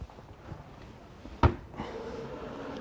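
A power-operated kitchen drawer with no handles opens, giving one sharp thump midway through, followed by a low running hum, set against quiet room noise.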